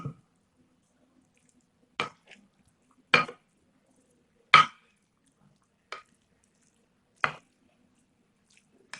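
Chana dal chaat ingredients being mixed in a bowl, heard as six separate soft, wet stirring and clinking strokes spaced a second or so apart in an otherwise quiet room.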